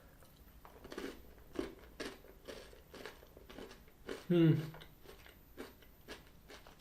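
Someone chews a crunchy Ritter Sport cornflakes chocolate bar close to the mic, with soft repeated crunches and biting sounds, briefly overlapped by a speaking voice.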